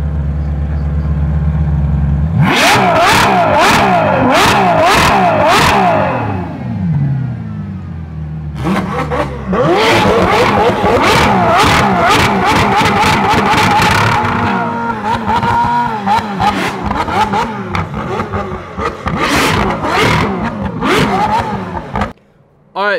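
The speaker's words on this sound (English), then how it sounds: "whose car you think was louder, the 812 Superfast Mansory Stallone or the McLaren 720S" A Ferrari 812 Superfast Mansory Stallone or a McLaren 720S revs hard in a garage, with loud close blips and sustained high pulls that rise and fall in waves for most of the stretch, then cut off near the end.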